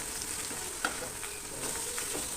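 Dried fish sizzles in an oil-filled pan as it is turned, giving a steady hiss with a few light stirring scrapes and clicks and no talking.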